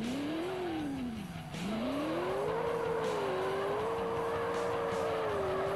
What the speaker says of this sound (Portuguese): Vou colocar meu drift aqui.